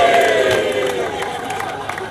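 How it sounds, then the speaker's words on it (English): Cheering crowd at a sporting team's celebration, a steady broad roar of many voices that holds throughout with scattered whoops, fairly loud and close. "prompting cheers from the crowd"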